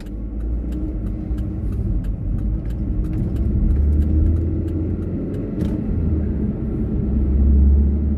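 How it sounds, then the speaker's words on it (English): A car drives past on a road, its engine rumbling low and steady and swelling slightly toward the end, with faint ticking clicks layered above and no talk. "Car."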